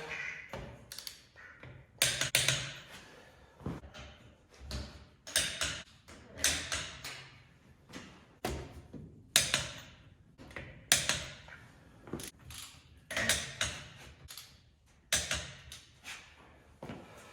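Wheel lug nuts are torqued on a 2013 GMC Acadia after a brake replacement, producing repeated sharp clicks and short ratcheting bursts at an uneven rhythm, close and fairly loud, with quiet pauses between.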